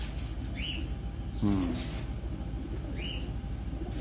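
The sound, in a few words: pigeon cooing on a rooftop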